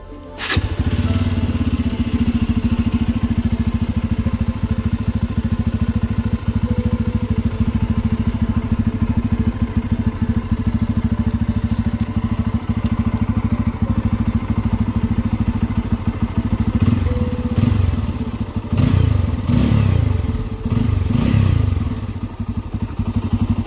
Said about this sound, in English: Let me just start it up for you and show you what it sounds like.